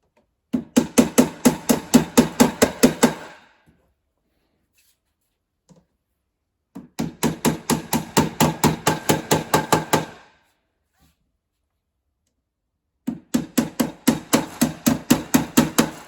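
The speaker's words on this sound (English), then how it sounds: "I like to use a small hammer for this, but any hammer of course." Rapid light taps of a small hammer in three runs, each a quick even string of sharp metallic knocks separated by silent pauses.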